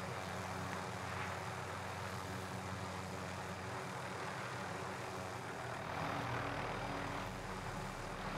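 A helicopter in Call of Duty: Warzone drones steadily with a low rotor and engine hum, moderately distant and fairly faint, with no speech.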